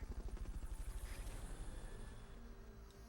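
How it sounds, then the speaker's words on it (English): Fulton recovery helicopter in Metal Gear Solid Peace Walker, a steady rhythmic rotor thump that is loud and close at first and then slowly fades, with no talk over it. "Fulton recovery subject confirmed onboard helicopter."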